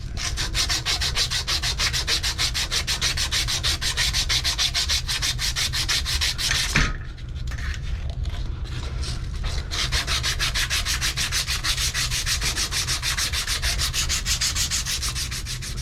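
Steady rhythmic sanding scrapes solder off a copper chilled water pipe, close and loud, with a brief pause partway before the rubbing resumes at the same brisk pace.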